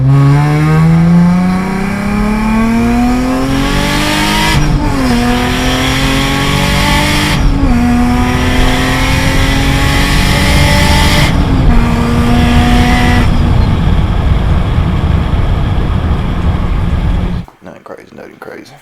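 A turbocharged car running 5 pounds of boost revs hard and climbs through several gear shifts, loud and close, with brief dips between pulls before cutting off abruptly.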